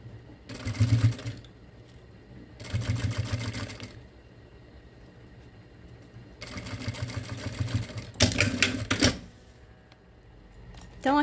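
Sewing machine stitching bias binding onto a pencil case, running in several short bursts of rapid mechanical whirring with pauses between, close and clear.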